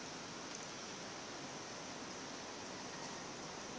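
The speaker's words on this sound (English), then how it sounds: "check it out, guys. It's raining." Rain falls in the mountains at Manipis, Cebu, in the Philippines, making a faint, even, continuous hiss with no breaks throughout.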